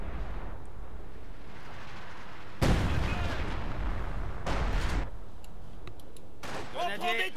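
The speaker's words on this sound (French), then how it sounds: "Tire de mitrailleuse." Machine gun fire in Company of Heroes 2, WWII combat on the Crimean front: bursts of rattling gunfire and booms in the mid-distance, broken by quieter gaps, with voices speaking over parts.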